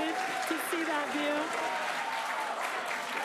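A crowd applauds and cheers steadily during a SpaceX Starship Super Heavy flight test, a continuous wash of clapping with a voice speaking over it.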